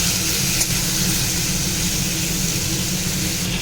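Boiled chicken pieces sizzle in hot spiced oil with red chili powder, a steady dense frying hiss that holds evenly throughout, with no talking.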